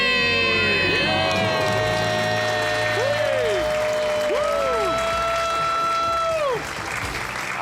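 A family on the Ramsey Show lets out a loud debt-free scream of cheering and shouting after a countdown, with the crowd's whoops and high yells filling the studio continuously, close and energetic throughout.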